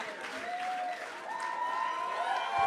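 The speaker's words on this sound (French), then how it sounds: "Applaudissez-les, ils détestent ça." An audience breaks into steady applause, a fairly soft wash of clapping that swells slightly toward the end, with faint voices mixed in.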